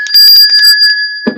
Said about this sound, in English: Give him a bell ring.